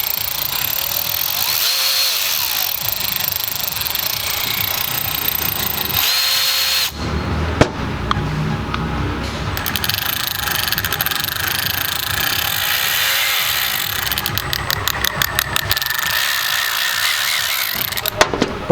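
Milwaukee and Matco brushless 12-volt high-speed ratchets, quarter- or 3/8-inch anvils with variable-speed triggers, whir in several close, loud bursts of motor drone and ratcheting, with short pauses between runs and a quick rapid clicking stretch near the end.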